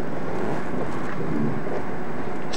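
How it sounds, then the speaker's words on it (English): Strong wind roaring ahead of an approaching tornado beside the Kansas Turnpike north of El Dorado, a loud, steady broadband rush buffeting the microphone with no pauses and no voices. "Listen to the wind"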